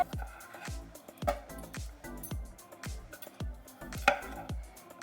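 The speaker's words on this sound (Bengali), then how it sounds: "এইভাবে 4 টুকরো করে নেব।" A knife cuts tomatoes into quarters on a cutting board for a homemade tomato pickle, with about a dozen sharp, crisp chops in a fairly steady rhythm, close by.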